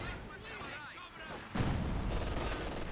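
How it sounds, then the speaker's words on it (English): Light artillery barrage in the real-time strategy game Company of Heroes 2, a low rumbling burst of shell fire that rolls in under a commentator's voice and then sustains as a booming wash. "Here comes a light artillery barrage."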